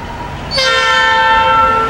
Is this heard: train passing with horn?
yes